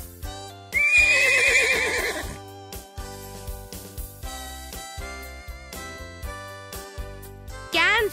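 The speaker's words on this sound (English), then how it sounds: "Horse." A horse gives one loud, close neigh early on over a rhythmic music backing. The music continues with steady beats, and a brief higher call rises near the end.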